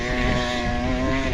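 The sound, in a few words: dirt bike accelerating on volcanic sand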